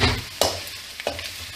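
Garlic frying in a pan for a sorrel leaf pickle, with a steady low sizzle and a few scraping stirs of a spoon against the pan, close by and without speech.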